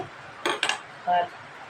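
A wok set down on a home kitchen stove, heard as a couple of sharp metallic clanks followed by a brief scraping ring, fairly close and alone with no talk.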